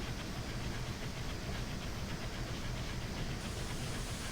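A Union Pacific steam locomotive in Train Simulator 2019 runs with a steady, dense chuffing rumble and hiss, continuous and fairly loud with no voices over it.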